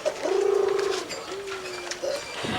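A person imitates a pigeon's coo in the fishing village of Cachakou, giving a few soft, rolling coos against an outdoor background.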